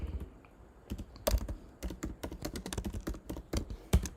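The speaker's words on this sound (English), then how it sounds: "just start typing" Fast, uneven keystrokes clatter on a computer keyboard while text is typed into the nano editor on Linux, close and clear with no talking.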